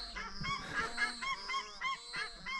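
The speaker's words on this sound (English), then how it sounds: "Some loud ducks." Loud waterfowl honking near Blue Lake in Otago on a snowy spring morning, several birds calling in overlapping nasal honks, moderately distant and faint, with no talking.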